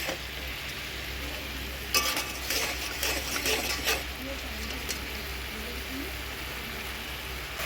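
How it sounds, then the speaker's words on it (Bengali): Pointed gourd with milk being stirred in a pan: a soft steady sizzle with a burst of scraping and clinking utensil sounds in the middle, close but quiet, and a voice speaking faintly underneath. "এখন আমি একটু দুধ দিয়ে দিচ্ছি। আর দেবো না, অনেকটা দিয়েছি। নাড়াচাড়া করে দিই।"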